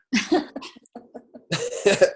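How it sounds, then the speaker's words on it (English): A string of close, harsh coughs in bursts, a short wheezy pause, then another rough coughing fit. "I have like a weird cough"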